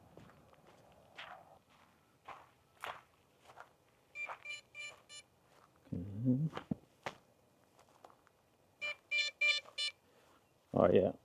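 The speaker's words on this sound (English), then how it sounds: "Let's add the beeper on." A DJI drone's beeper sounds in two bursts of rapid, shrill electronic beeps, close by, amid footsteps, handling bumps and a person talking.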